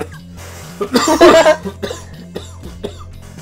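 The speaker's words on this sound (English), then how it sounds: "That is cough not supposed to feature in this live stream." A loud, close cough during a tabletop role-playing livestream, one harsh burst followed by a few smaller rasping aftershocks against a quiet room.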